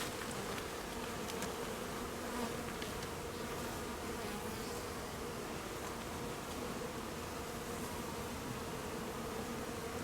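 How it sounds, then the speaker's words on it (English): A dense swarm of honeybees drones steadily and close during a hive installation on a small farm, a continuous, even buzzing hum with no break and no talk. "even these bees are not fussing near as much as Margaret was"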